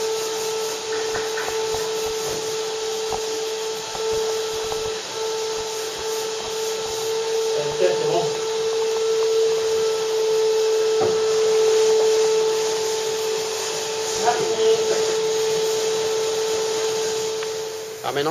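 A boat deck is sanded in a shipyard workshop to prepare a new non-slip coating, giving a steady power-sander whine with a constant hum, broken by brief scraping bumps and with no voices.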